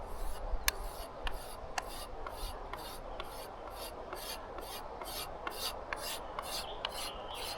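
A knife blade is stropped on leather, a soft, quiet rasping rub repeated in a steady rhythm of short strokes, close to the ear with no voices.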